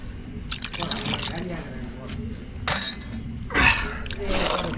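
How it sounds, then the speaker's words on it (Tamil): Water poured into chicken curry simmering in a clay pot, giving trickling, dripping liquid sounds with a few soft clinks and brief louder splashy bursts, close and moderately loud. "இப்போ வந்து தண்ணி ஊற்ற போகிறோம்."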